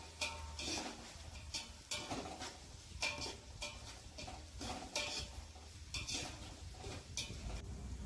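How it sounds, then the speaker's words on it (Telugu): A spoon stirs onions frying in a pan for chicken biryani, giving quiet, repeated scraping and clinking strokes in an uneven rhythm over a soft sizzle, close and faint. "ఉల్లిపాయల్ని బాగా నీట్గా కలపాలి గాయస్"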